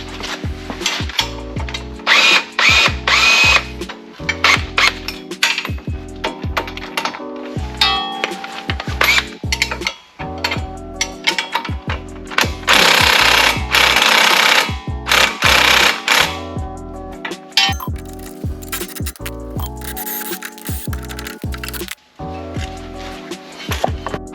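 Power tool zipping off the top strut bolts on a Subaru BRZ/Toyota 86/Scion FRS during an air suspension install. Repeated loud, close bursts of impact-style rattling and whirring are broken by short pauses, with metallic clanks between them.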